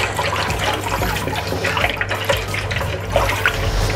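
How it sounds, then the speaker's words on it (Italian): Water running and splashing into a container as yeast is dissolved for a Neapolitan pizza biga, a steady liquid wash that carries on throughout with no voices. "Sciogliamo il lievito all'interno dell'acqua."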